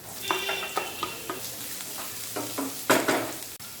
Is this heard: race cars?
no